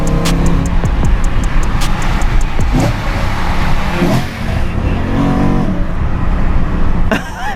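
A BMW M3 with a V8 engine is driven along a twisty road, its engine roaring steadily with revving rises and dips and a few sharp gear-change blips, loud and close throughout.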